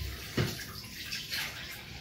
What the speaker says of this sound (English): I was thinking, why is the water running out?